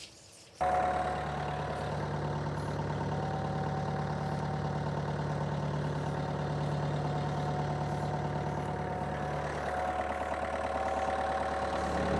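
A Kubota LX3310 compact tractor engine starts up and settles into a steady, loud idle with a constant low hum, running on evenly before easing slightly near the end.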